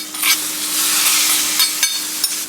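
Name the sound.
hot tempering poured into curd and stirred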